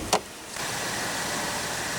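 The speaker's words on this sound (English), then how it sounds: "Automatic driver's side window." A car's automatic power window on the driver's side runs with a steady, even motor hum after a short click. The sound is close and continuous and stays at the same level, with no voices.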